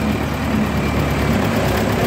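A tractor engine, fitted with a harvesting machine for a moong crop in Punjab, rumbles at a steady low idle, continuous and fairly close throughout.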